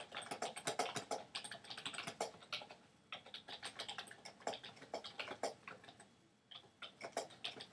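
Keys tapped on a computer keyboard in quick, uneven bursts of close, light clicks with a short pause midway, no voices.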